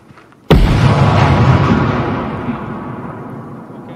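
A frag grenade detonates in the tactical shooter Ground Branch, a sudden loud boom that cuts through near-silence and then rumbles and rolls away slowly over several seconds.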